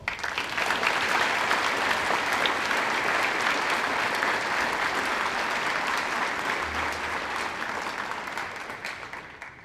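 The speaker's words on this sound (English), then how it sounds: "Please join me in a round of applause." A large audience at a Veterans Day remembrance ceremony applauds steadily, a dense sustained clapping that holds for several seconds before slowly tapering off.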